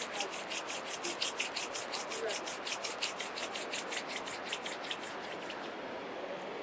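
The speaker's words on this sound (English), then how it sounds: "Whenever you're ready, rub your palms." Palms rub briskly together during a yoga class, a steady rhythmic swishing of quick strokes, close and soft, continuing for about six seconds before fading.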